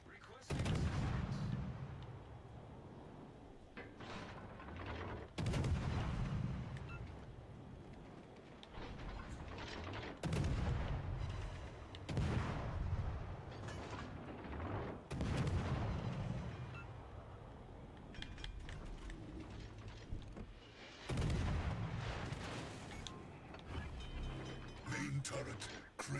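Naval artillery fire in the World of Warships Legends game, heavy booming salvos recurring every few seconds with rumbling low-end tails, loud and continuous over battle noise and radio-style voice callouts.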